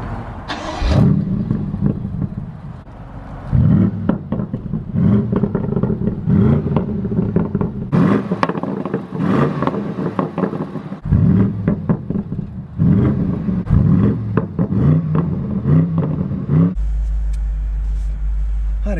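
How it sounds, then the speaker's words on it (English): A 2020 BMW M850i convertible with its particulate filter still fitted, revving hard so the exhaust pops and crackles in repeated bursts, loud and close, with the engine note rising and falling several times before settling into a steady low rumble. "Obviously, it still has an OPF, however, the car pops and crackles."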